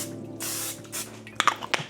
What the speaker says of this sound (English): we need to go ahead and get a little bit of cooking spray on the pan here